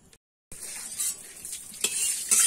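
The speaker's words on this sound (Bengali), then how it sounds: "এবার তেলটা দিয়ে দেবো। তেলটা আমি গরম করে নেব।" Oil heating in a wok on a stove, a soft crackling sizzle that starts after a brief silence and swells with a couple of louder spits toward the end.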